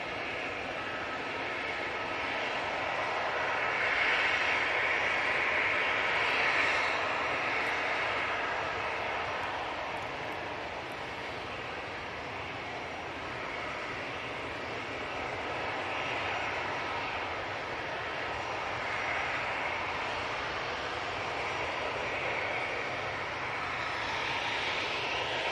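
The engines of an Emirates airliner, seen head-on on the runway, produce a steady moderate roar with a whining tone, swelling slightly early and then holding fairly even.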